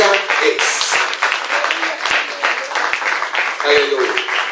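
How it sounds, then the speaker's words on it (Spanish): A church congregation at a Spanish-language sermon claps loudly and continuously, the applause close and dense, with voices calling out throughout. "Dale un fuerte aplauso."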